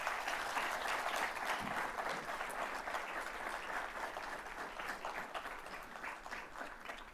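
A large audience at a business school awards ceremony in a hall claps for scholars, a sustained wash of applause that stays even and full, gradually easing slightly toward the end.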